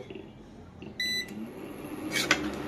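A kitchen stove is switched on for a beef curry, giving a short, sharp electronic beep followed moments later by a brief click, all quiet against a low room background.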